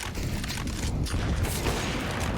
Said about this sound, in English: Oh, what a shot for Story.